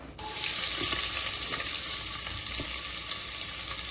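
Onions sizzle and crackle in hot ghee in a pan for ghee rice, a steady broad frying hiss close by with a few soft stirring knocks, no voices.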